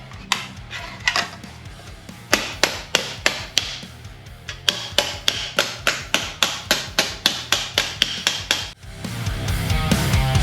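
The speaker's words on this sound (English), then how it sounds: "hammer and dolly on it." Sheet metal is worked with a hammer and dolly in a fabrication shop, giving a long series of sharp metallic taps in quick, mostly regular bursts with short pauses, loud and close.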